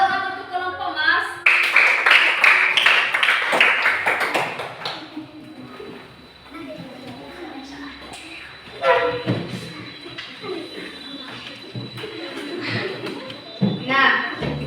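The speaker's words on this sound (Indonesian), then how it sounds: "Tepuk tangan untuk kelompok Mars" A classroom of students claps for a student group, a burst of applause lasting a few seconds near the start, followed by a teacher talking over a quieter room.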